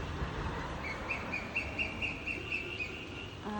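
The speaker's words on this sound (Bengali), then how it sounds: "কোকিলের ডাক শোনা যাচ্ছে, বৃষ্টি পড়ছে" Rain patters on the ground in a village near Munnar as a cuckoo calls again and again in a steady repeated phrase, moderately near, with no one talking.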